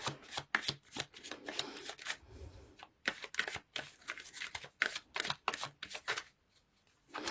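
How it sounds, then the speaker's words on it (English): Tarot cards shuffled and drawn: repeated crisp riffling bursts with brief quiet gaps between them, close and fairly soft, no voices. "So let's pull few cards to clarify situation from Gildred."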